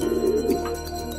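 A young racing pigeon wearing a club ring coos once, close and clear, as a single soft rolling call in a quiet loft.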